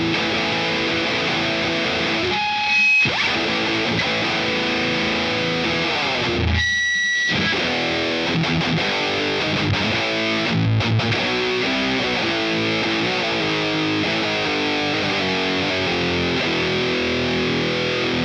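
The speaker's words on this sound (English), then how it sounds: "All distortion pedals." Heavily distorted electric guitar through a Boss Katana Mk 2 amp and distortion pedals, playing riffs and sustained chords, loud and continuous with a couple of brief pauses.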